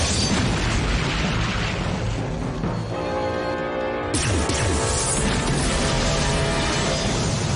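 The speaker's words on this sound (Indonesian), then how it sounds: "Aku akan tembak dia dengan peluru bius." A tranquilizer gun firing in the Ultraman Cosmos tokusatsu series, a loud crashing burst and boom filling a dense, noisy scene, with a harsh impact near four seconds and a steady roar of effects throughout.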